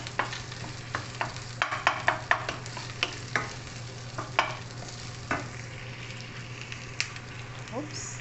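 Onions sizzle and crackle in a hot pan for bistek, a steady close fry with scattered sharp pops and stirring scrapes over a low hum.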